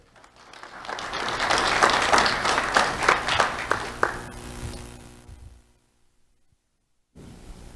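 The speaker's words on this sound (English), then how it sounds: "Let's have a round of applause for Jeremiah Boudreau" A sustained round of applause from an audience at a sheriff's office Do The Right Thing awards ceremony, swelling dense and loud for about five seconds, then fading to near silence before a brief sound resumes at the end.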